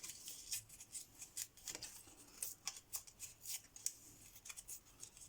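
Scissors cut small paper tags with a rapid series of crisp snips and rustles, close and quiet, in a steady irregular rhythm with no voices.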